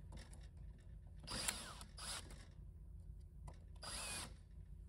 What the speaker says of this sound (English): what I'm using is a drill on a very, very low clutch setting